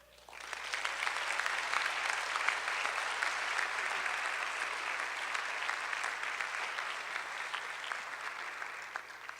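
Sustained audience applause fills a summit presentation hall, a dense steady wash of many hands clapping that swells quickly and holds loud throughout without voices on top.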